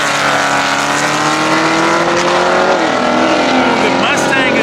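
An LS2 V8 drag car accelerates hard at a drag strip, its loud engine roar rising in pitch, with a commentator talking over it and crowd noise mixed in.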